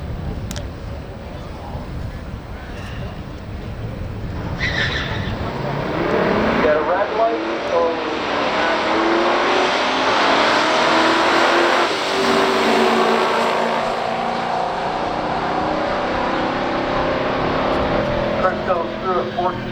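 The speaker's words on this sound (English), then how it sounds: "see what these two rare muscle cars will do on the drag strip" Loud engines of a 1970 Torino Super Cobra Jet and a 1974 Pontiac Trans Am SD 455 roar and rev continuously on a drag strip, rising in pitch as they accelerate hard, with a voice talking over it.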